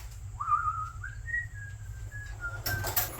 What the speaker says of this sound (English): I'm not whistling for you. I'm just whistling to whistle.